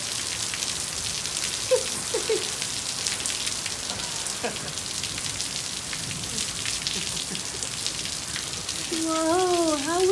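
A steady hiss of heavy rain pattering on surfaces fills the scene, with faint voice sounds and a person speaking briefly near the end.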